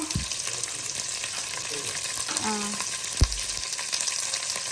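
Garlic and ginger frying in a hot pan produce a close, continuous sizzle with a few clanks of stirring, while faint voices sit in the background.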